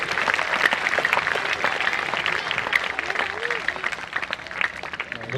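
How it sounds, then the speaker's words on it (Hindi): An audience at a school function claps loudly for the children, a sustained, busy round of applause with crowd noise and a voice heard faintly underneath. "एक बार जोर से तालियां बजा दीजिए उन बच्चों के लिए।"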